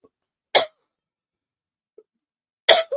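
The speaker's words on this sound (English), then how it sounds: "I feel like I've got a bit of a cough" Two sharp throat bursts from a spiritualist medium during a psychic reading, one at the start and one near the end, with a tiny faint click between them, close and dry with no talk.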